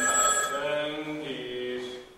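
A telephone bell rings in bright, tonal bursts with strong overtones, alone and fairly loud, fading slightly over about two seconds.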